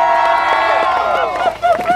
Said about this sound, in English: Give Kamea a special round of applause for me